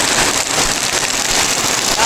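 Steady rain pours onto a homemade PVC gutter at a house under construction, a dense continuous hiss filling the clip, with excited voices cheering faintly under the downpour.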